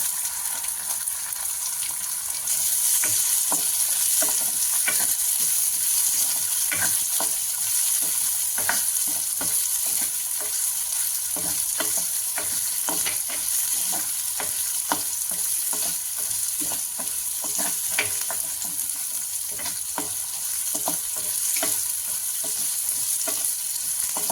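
Onion and curry leaves sizzle and fry in a hot pan for a sundakkai vatha kuzhambu, a steady hiss with frequent scraping stirs of a spoon, close and continuous with no talking.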